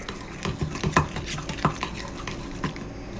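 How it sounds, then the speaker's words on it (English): Close, repeated scraping and clinking as a utensil mixes boxed pasta salad in a bowl, irregular strokes with brighter knocks against the bowl's side. "We're just going to give that all a good mix."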